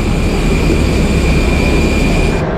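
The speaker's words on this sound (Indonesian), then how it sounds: "Naik pesawat lagi lur menuju Surabaya." Airplane cabin on a flight to Surabaya: a loud, steady, broadband rumble and roar with a faint constant whine above it, continuous throughout, with no talk.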